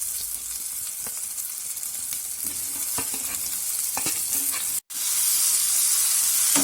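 Chicken pieces hit hot oil with fried spices in a pan, giving a loud, steady sizzle with stirring scrapes throughout and a brief break near the end before the hiss resumes.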